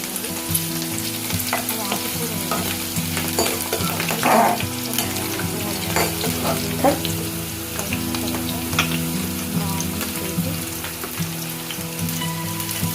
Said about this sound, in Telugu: పచ్చిమిర్చి ఎట్లా వేయించాలో తెలుసు కదా.